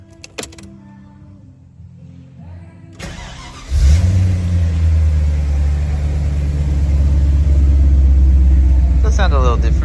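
A Holden VT Clubsport with a 5L V8, rebuilt after a crash, cranks and fires up after a few clicks, then settles into a loud, deep, rumbling idle close by.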